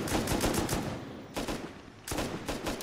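Machine gun fire in a video game battle between an M2 and a helicopter comes in rapid bursts of sharp, evenly spaced shots, with two brief lulls between the loud volleys.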